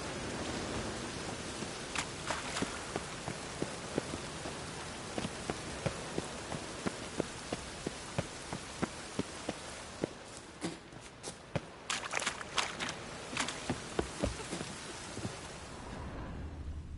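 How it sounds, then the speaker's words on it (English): Rainfall in the video game The Witcher 3 makes a steady hiss of rain with regular soft footstep-like taps, ending in a denser cluster of sharp drips and clatter near the end. No voices. "looks like rain."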